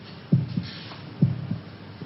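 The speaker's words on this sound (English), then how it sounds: "Can you hear your heart beating?" A heartbeat thumps in slow pairs, two double beats muffled and low, with a faint hum between them.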